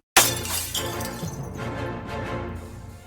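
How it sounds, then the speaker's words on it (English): Glass window smashed with a lamp: a sharp, loud shattering crash right at the start, followed by a long spill of tinkling shards that gradually fades over several seconds. "In a frantic frenzy, Jordan smashes the window with the lamp and climbs out, cutting his hands on the glass."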